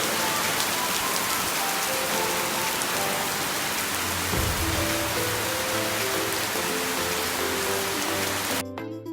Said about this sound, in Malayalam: ഇന്നത്തെ ആ ഒരു ദിവസം നല്ല കാറ്റും മഴയൊക്കെ ഉള്ളതായിരുന്നു